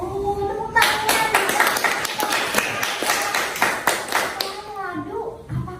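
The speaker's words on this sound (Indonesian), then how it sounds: "tepuk tangan" Children in a classroom break into a burst of rhythmic group clapping that lasts several seconds, with young voices mixed in, then it quickly dies away.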